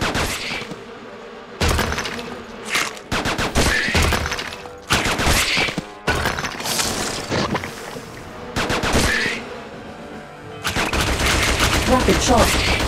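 Video game gunfire in Attack of the Movies 3D on Xbox 360 erupts in loud bursts and rapid volleys with shattering impacts, separated by short quieter gaps.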